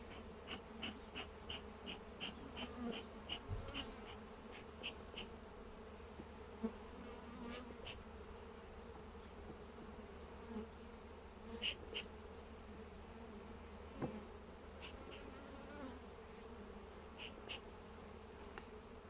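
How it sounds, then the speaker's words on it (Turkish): Carniolan honey bees hum in a continuous buzz at a citrus-grove hive, with individual bees zipping close by now and then; faint and steady, with no voices. "Karniol F2 bu. Damızlık arım."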